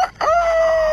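A voice imitates a rooster crowing, one loud, close, sustained crow-like call lasting under a second before it cuts off.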